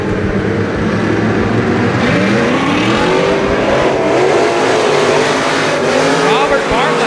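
Dirt-track race cars at a Texas Grand night race roar together at the start, a loud, continuous, rising engine howl from several cars, with a commentator's voice faintly mixed underneath.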